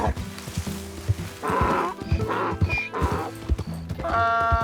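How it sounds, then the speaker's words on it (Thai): Zebra calls in the video game Red Dead Redemption 2, three loud braying, whinny-like bursts in a row over steady game ambience and hoof clatter, with a tonal chime at the end. "นี่เสียงม้าลายเหรอเนี่ย"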